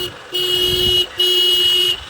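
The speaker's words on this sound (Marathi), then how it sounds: "पिकअपचा हॉर्न पिकअप एकदम जबरात" A pickup truck horn honks twice in long, steady blasts, loud and close, with a short gap between them.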